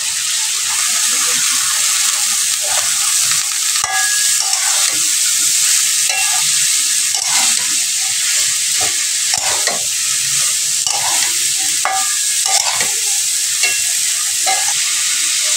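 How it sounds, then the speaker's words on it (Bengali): Figs and fried potatoes are stirred and fried in a cooked-down spice masala for a fig and prawn dish, with a steady sizzle and frequent close scraping stirs throughout. "মশলাটা কষানো হয়ে গেছে, আমি এবার ওর ভিতরে সেই ডুমুরগুলো দিয়ে দেব।"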